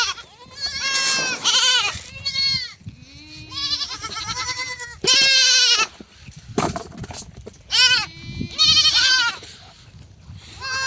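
Several goats bleat loudly and close by in repeated, wavering calls with short pauses between them, the cries overlapping at times in a rural farmyard setting.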